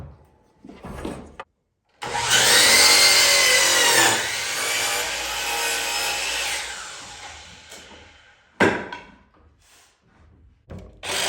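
A power saw cuts wood for a log cabin stair stringer, a loud sustained whine lasting several seconds before winding down, bracketed by short knocks and handling noises.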